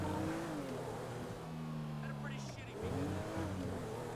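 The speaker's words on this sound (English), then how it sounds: "I'm just parking the charger downstairs" A Dodge Charger in GTA V being parked, its engine droning and revving steadily with shifting pitch throughout, while a person talks over it.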